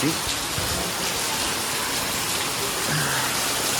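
Steady, heavy rain pours continuously with a broad hissing roar, loud and close, with a gusty rush of wind mixed in throughout.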